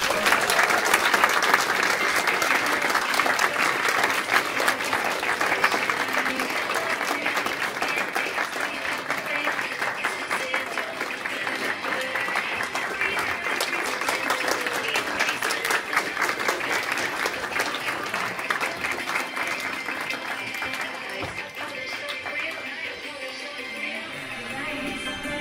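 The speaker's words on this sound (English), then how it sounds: "More round of applause for those candidates." Sustained crowd applause at a high school Rose Festival princess reveal in East Portland, loud and even at first and thinning slightly toward the end, with scattered cheers and faint voices mixed in.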